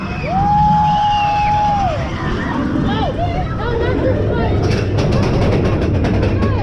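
Riders on the Seven Dwarfs Mine Train roller coaster at Magic Kingdom create steady loud crowd hubbub, with clattering track noise and a rising whoop of excited voices as the swinging ride vehicles set off.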